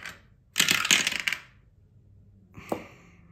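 Dice rolled for a savings challenge game, a short clattering burst of hard tumbling and settling, then a smaller single knock a moment later, close and clear with no talk.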